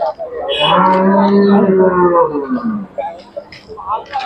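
A large Khillar cow at the Sangola livestock market gives a long, loud, close moo lasting about two seconds, followed by fainter market background and brief voices.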